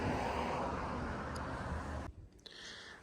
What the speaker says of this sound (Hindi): जाओ गाड़ी पीछे लेके जाओ